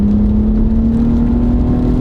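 A Toyota car with a freer-flowing exhaust accelerates under a loud, close, steady engine drone whose pitch climbs slowly and evenly, with no speech.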